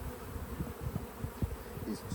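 Honey bees buzz around an opened hive during an inspection, a soft, close, wavering drone with low fluttering wingbeats and no voices.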